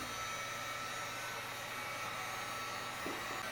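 A heat gun blows a steady, loud, broadband whoosh of hot air while heating fishing tackle for powder coating, a constant drone with a low hum that holds unbroken throughout.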